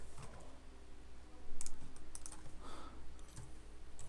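Fast typing on a computer keyboard, heard up close and fairly quiet: a steady patter of small clicks with a few louder key strikes mixed in, over a low background hum.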